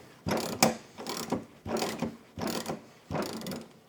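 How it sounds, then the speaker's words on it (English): Spring compressor thread being tightened on a BMW strut assembly, a series of five ratcheting bursts, each about half a second long with short pauses between, close and fairly loud with no talking. "we'll continue to tighten the thread, and this will compress the spring."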